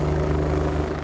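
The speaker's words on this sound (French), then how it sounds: "L'hélicoptère arrive sur les lieux de l'accident." Mountain rescue helicopter arriving at a climbing accident below a huge limestone cliff, its rotor and engine drone loud, steady and close throughout.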